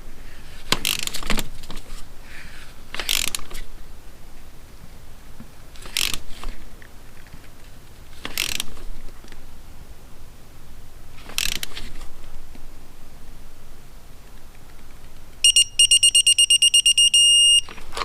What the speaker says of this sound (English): I've got my torque wrench set to 14 foot-pounds.